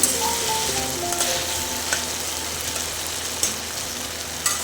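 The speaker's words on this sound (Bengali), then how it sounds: "ভালো করে কষিয়ে নেব অনেকক্ষণ ধরে দেখতে পাচ্ছ তেল বেরিয়ে এসেছে" Chicken coated in mustard paste fries in oil, a constant close sizzle with occasional spatula scrapes and taps against the pan, no talking.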